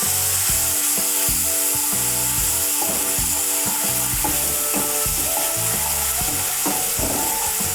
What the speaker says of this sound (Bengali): মশলাটাকে তেলের সঙ্গে ভালো করে মিশিয়ে নেব